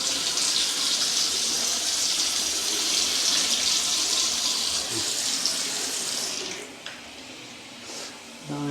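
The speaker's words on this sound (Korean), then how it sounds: "물은 한 번씩 다 틀어보시면 돼요." Tap in a newly built apartment runs in a steady, loud hissing stream, close by, before the flow cuts off near the end.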